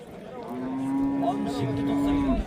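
A single long, low cow moo at a livestock market holds steady for about two seconds, fairly close and clear, with faint background noise.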